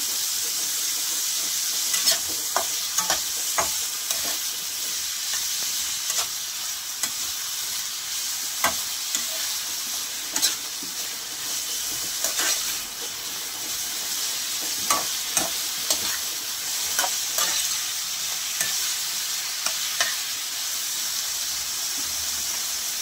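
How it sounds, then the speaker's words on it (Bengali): Cauliflower and potato pieces for vegetable khichdi fry in a pan with turmeric and salt, giving a steady close sizzle broken by repeated scraping stirs of a spatula, with no voices. "হালকা করে ভেজে নেব"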